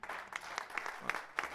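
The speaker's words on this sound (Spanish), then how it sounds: "Le damos un aplauso al Señor," A church congregation breaks into a short burst of applause, faint and sparse, lasting under two seconds.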